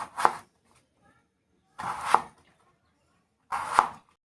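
A knife cutting an ash gourd into thick pieces: three separate close chops, each a crisp thud into the firm flesh, evenly spaced with near silence between strokes.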